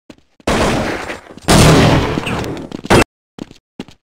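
Automatic AK rifle gunfire in Counter-Strike on de_russka, loud close bursts at about half a second and one and a half seconds, a final burst near three seconds, then a few faint scattered shots.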